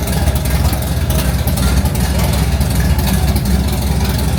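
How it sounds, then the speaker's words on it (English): A 1969 Chevelle SS 454 with a custom build runs loud and close, its big V8 rumbling in a continuous heavy low drone that holds steady throughout, with no talk over it. "This car loud as hell."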